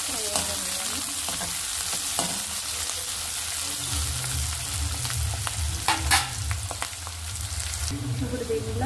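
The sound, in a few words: onions, green chillies and curry leaves frying in oil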